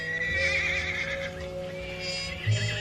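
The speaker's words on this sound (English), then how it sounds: "Seems to me I heard a horse." A horse neighs and whinnies in a Western ranch setting, one drawn-out call with a rising and falling pitch that sounds somewhat distant, followed by a short snort near the end. Nobody speaks.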